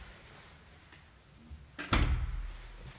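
A tightly fitting apartment door in a renovated three-room flat closes with one firm thud near the two-second mark, followed by a short low rumble, after quiet room tone.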